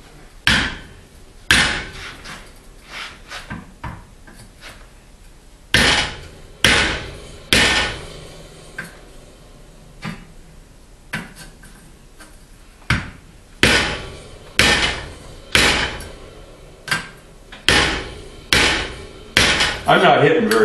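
A treadle hammer strikes metal for a garden tractor blade shroud in a steady series of sharp, ringing blows, some quicker pairs, loud and close with no speech.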